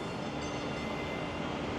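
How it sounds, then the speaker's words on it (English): A Boston streetcar train coming into a stop on Commonwealth Avenue, a steady loud broadband rumble and rail noise close by throughout, with no talking. "But we'll get the train coming in at the stop sign."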